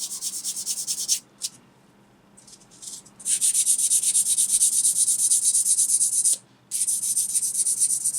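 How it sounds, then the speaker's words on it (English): A small plastic scale-model part rubbed on finer-grade sandpaper in steady, close, continuous strokes, with a brief pause partway through, a second longer gap near the end, and no speech. "Down to a finer grade."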